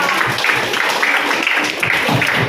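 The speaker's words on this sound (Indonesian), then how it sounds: "Tepuk tangan buat kita semua." A group claps together during a teacher-led learning session, a dense, steady patter of many hands that carries on at an even level from start to finish.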